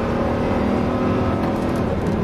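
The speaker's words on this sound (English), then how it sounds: "This baby sure pulls for a truck" A truck engine pulls hard through its automatic gears on a twisty course, a dense, loud and continuous roar close to the listener, with no voices.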